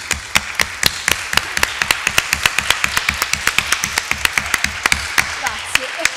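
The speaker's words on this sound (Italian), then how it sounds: "Alzatevi, dice Laura, alzatevi, un applauso generale." A small audience at an archive and library professions event claps in a rhythmic, fairly sparse pattern of individual sharp hand claps, close and steady, without talk.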